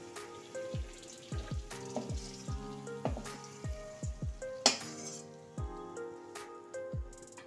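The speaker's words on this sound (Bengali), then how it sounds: "প্রথমে আমি পেঁয়াজটা ভেজে নিলাম।" Onion sizzles steadily in a hot pan as rapid frying crackle, broken by a series of sharp, regular knocks or clinks, close and moderately loud with no voices.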